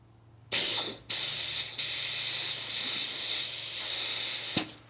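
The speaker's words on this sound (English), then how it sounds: "I'm going to blow it out with the compressor a bit" Compressed air from a compressor hose hisses in long loud blasts through the air filter of a 125cc motorbike, with a brief pause and a few spurts of varying strength, close up and without talk.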